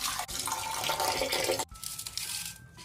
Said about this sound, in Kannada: ಸ್ವಚ್ಛಾಗಿ ತೊಳಿಬೇಕು